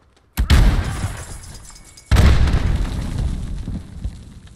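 A flashbang grenade goes off in Modern Warfare: two sharp, loud booms about two seconds apart, each trailing into a dense, noisy rumble that fades slowly.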